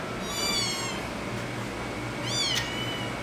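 A calico cat meows twice, high and drawn out, with a pause between, over a steady background hum.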